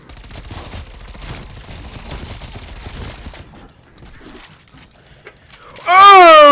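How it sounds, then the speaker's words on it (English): Call of Duty gunfire from an MP5 and a chopper gunner, rapid distant bursts of shots crackling through the first half, then quieting before a loud wavering wail swells at the end. "now we gotta kill everything with the chopper gunner and the MP5"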